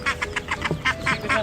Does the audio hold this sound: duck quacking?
yes